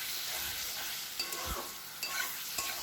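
Spice paste sautéing in a pan for a Bengali dokar dalna, with a soft steady sizzle broken by a few scraping stirs of the spatula, close up with no voices.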